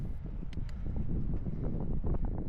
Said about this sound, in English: This path is super windy